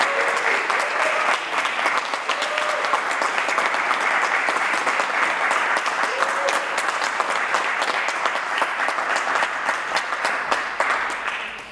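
Sustained applause from an awards ceremony audience honoring a graduate solo division trumpet winner, dense steady clapping throughout with a few faint voices mixed in.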